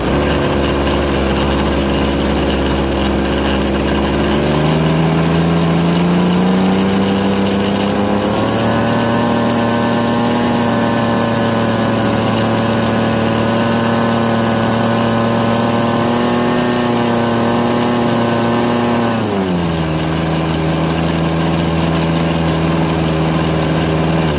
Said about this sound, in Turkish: İlk test için motorumu çalıştırıyorum